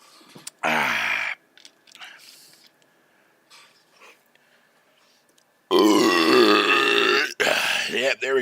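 Two long, loud, rumbling burps from a man close to the microphone: a short one early, then a much longer drawn-out belch, with soft breathing and a few muffled mouth noises between them.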